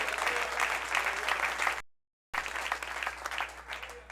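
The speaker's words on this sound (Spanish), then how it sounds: "Dale palmas al Rey si lo puede hacer." Church congregation clapping for the King during a Spanish-language sermon, a dense steady wash of many hands applauding, broken by a brief silent gap before resuming.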